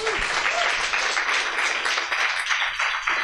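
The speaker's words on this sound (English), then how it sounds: "So let's give them a round of applause." An audience at a panel talk on climate engineering gives a steady round of applause, dense continuous clapping that holds at an even level for the whole stretch, with faint voices underneath.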